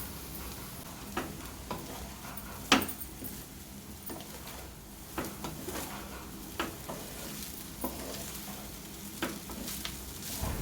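Egg fried rice sizzles steadily in a pan over a high gas flame, with repeated clicks and scrapes of stirring and tossing spread throughout, including one sharp knock. The cooking goes on close and even, with no voices.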